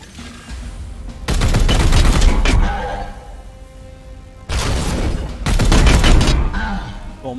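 Repeated bursts of gunfire in the video game Warhammer 40,000: Chaos Gate - Daemonhunters, loud and dense, coming in two clusters of rapid shots with quieter gaps between them.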